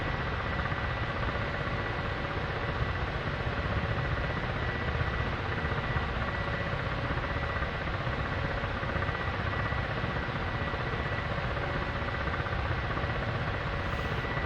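A Ka-50 helicopter in a flight video game drones on as a steady, dense rotor and engine roar that fills the whole stretch without change, with no talking over it.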